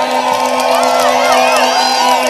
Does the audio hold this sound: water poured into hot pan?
no